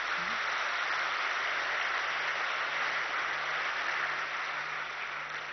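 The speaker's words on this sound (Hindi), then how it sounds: "हमारे यज्ञ के पिलर्स का आप जोरदार तालियों से हम सब अभिनंदन करेंगे।" Loud, sustained applause from a large audience welcoming guests at a spiritual gathering, a dense even wash of clapping that holds steady throughout and eases off slightly at the end.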